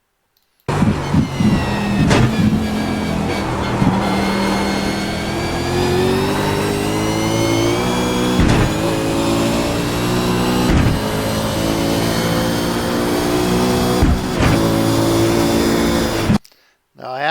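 A car engine revs and pulls hard through an uphill corner on a race circuit, its rising harmonic whine climbing steadily over many seconds, loud and close, before cutting off near the end.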